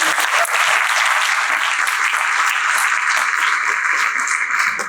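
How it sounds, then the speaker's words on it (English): An audience at a community gala applauds with a dense, steady wash of clapping that fills the room loudly and evenly for the whole stretch, without any voices cutting through. "Let's give them an extra round of applause."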